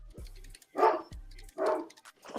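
A dog barks twice with a short pause between, two loud, full-throated woofs standing out clearly with no one talking over them, each followed by a low rumbling tail.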